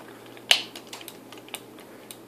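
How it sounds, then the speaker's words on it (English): Micro switches inside a worn Power Play Cruiser joystick click as the stick is held over, giving one sharp near click followed by a few fainter, scattered ticks. "if you hold that one there, they're clicking"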